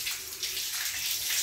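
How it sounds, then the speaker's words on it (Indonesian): Running tap water rinsing hands during a surgical hand-washing procedure, a steady, close hiss of flowing water with no voices. "Setelah semua selesai, kita bilas dengan air mengalir."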